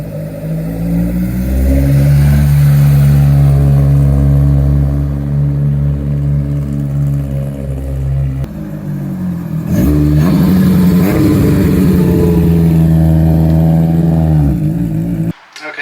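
A loud Honda S2000 sports car engine, freshly rebuilt, runs steadily with a deep harmonic hum, then revs and shifts pitch as the car pulls away and drives on, close by.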